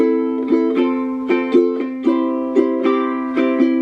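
A ukulele strummed in a quick repeating down, down, up, down, up rhythm, steady mix of stronger and lighter strokes, bright and close, with no voices.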